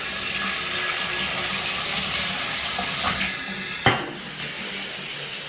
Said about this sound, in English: Okay, the shower works good.